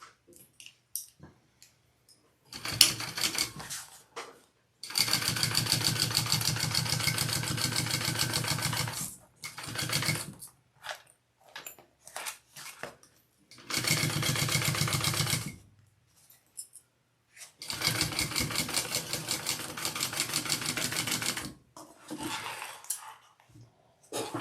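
A sewing machine top stitches a handbag in several loud bursts of rapid mechanical chatter, some quick and some running several seconds, separated by quiet pauses and small handling clicks.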